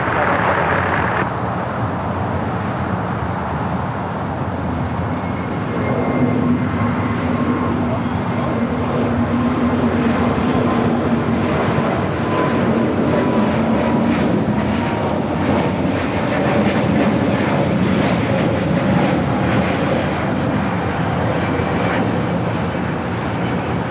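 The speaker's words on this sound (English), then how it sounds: "That E2 already rocking and rolling down the 25 at right." A Porter Embraer E2 jet rolls for takeoff on runway 25 right at LAX, its engines giving a broad, steady roar that builds and holds throughout, heard from a distance as a loud, continuous rumble.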